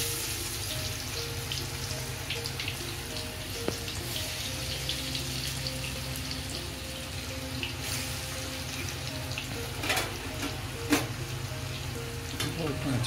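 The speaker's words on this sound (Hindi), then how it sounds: "तेल गर्म हो गया है, तेल में छोड़ देती हूँ" Arbi leaf pakoras are dropped into hot oil and fry with a steady, dense sizzle and crackle, with a few sharper pops now and then, close and continuous.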